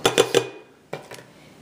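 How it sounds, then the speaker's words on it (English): Apple slices dropped into a bowl in a kitchen, a quick cluster of three clinking knocks, a pause, then a softer second clatter, close and fairly loud. "there's 6 cups of apple slices. We're just going to put them in this bowl here."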